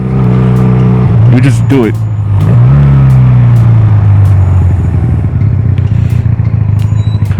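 A Honda Rebel 250 motorcycle engine blips up and down in quick revs during rev-matched downshifts, with rising and falling pitch sweeps over a steady running drone, while a rider talks over it up close.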